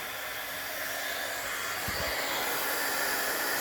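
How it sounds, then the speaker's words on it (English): A steady, loud blowing hiss of a heat embossing tool running continuously, with a brief low thump partway through. "let's fire up the heat tool, let it get warm."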